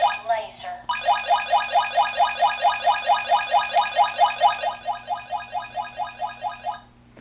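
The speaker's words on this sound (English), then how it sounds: "I can just shoot the desk and it'll bounce around and it's enough to trigger the detector." A Whistler radar detector sounds its laser alert when hit by a Pro Laser 3 lidar gun indoors, a loud rapid chirping beep pattern repeating steadily for about six seconds before cutting off.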